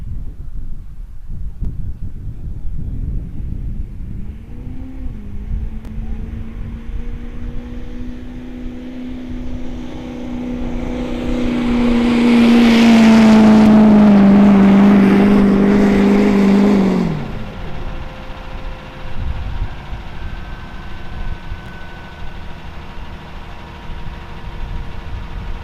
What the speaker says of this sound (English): The old flatbed trying to run to the front of the field.